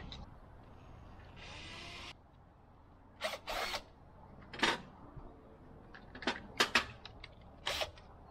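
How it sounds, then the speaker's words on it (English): A power drill whirs for under a second while drilling a test hole in an offcut during a water storage build, followed by scattered sharp clicks and knocks in a quiet room. "Just drill the test hole in an offcut, just make sure I've got the right size here to fit."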